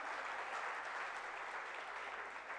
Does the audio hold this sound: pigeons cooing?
no